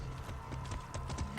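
Horse hooves clip-clopping at a steady gallop in Far Cry 6, a fast rhythmic run of hoofbeats over a constant game background, with no talk.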